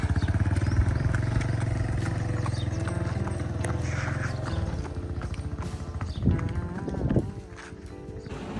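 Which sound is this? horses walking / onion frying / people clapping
horses walking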